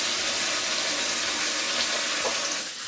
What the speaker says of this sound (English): And I drain my peas